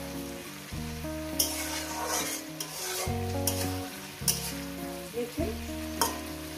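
Sliced onions frying in oil in a pan while being stirred, a steady sizzle with repeated scraping strokes of a spatula against the pan, close and fairly loud, no talk.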